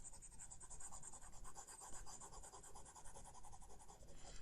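An eraser rubs writing off a board during a math lesson, making a quiet, continuous scrubbing with a quick back-and-forth rhythm for several seconds, heard alone and close.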